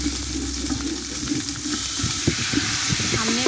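Pumpkin kofta fry in hot oil with a dense, close sizzle, the crackling bubbling joined by a few scraping stirs toward the end.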